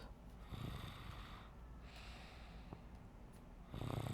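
A sleeping child snores softly in slow, breathy, snorting cycles nearby, faint and low, with no talking over it.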